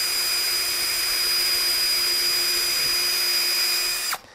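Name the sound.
power drill drilling pilot holes in wood for birdhouse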